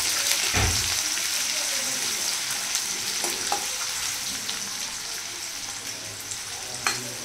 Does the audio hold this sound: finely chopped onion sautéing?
yes